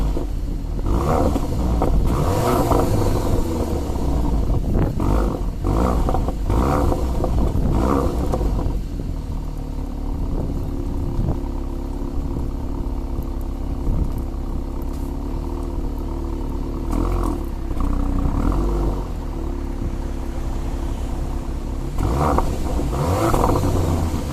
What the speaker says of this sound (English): the car was started and allowed to dry out